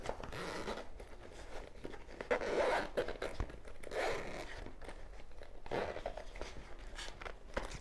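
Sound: opening the zipper of a sewn zippered pouch

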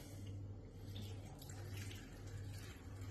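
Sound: pouring water into a pot

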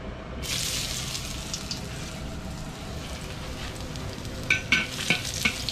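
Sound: stir-frying ginger and chicken in a wok

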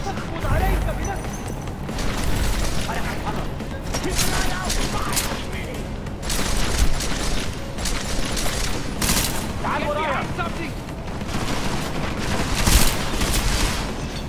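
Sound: explosion in the video game Deus Ex: Mankind Divided

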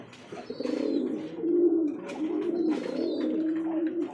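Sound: pigeon cooing

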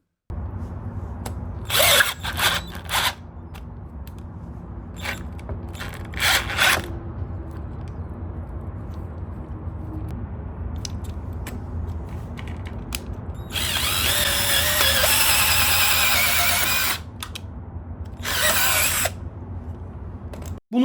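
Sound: SGS Plus 20V impact drill boring a hole in wood

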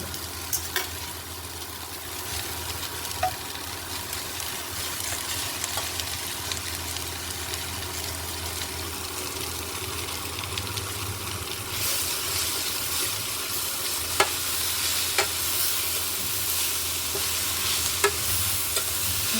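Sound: spinach frying and being stirred with onions

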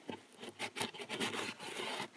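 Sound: rubbing isopropyl alcohol on a switch track to remove flux

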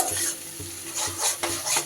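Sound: frying and stirring spices with fried onion and garlic

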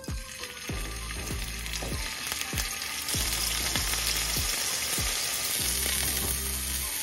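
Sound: scallops searing in a hot frying pan

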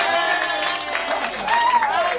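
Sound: audience applause

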